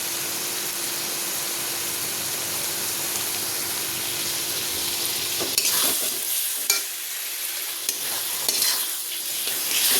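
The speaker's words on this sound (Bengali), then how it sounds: "মশলাটা বেশ অনেকক্ষণ ধরে কষাবে।" Spice paste and tomatoes sautéing in a pan for a fish dish, a steady broad sizzle with scraping stirring strokes growing busier toward the end, close and alone without talk.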